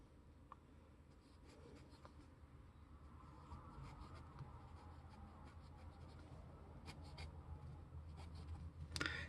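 Schneider Voice fountain pen with a very scratchy medium nib dragging across paper, a faint, steady rasping scratch with small strokes and ticks, close-up and quiet, with no voices.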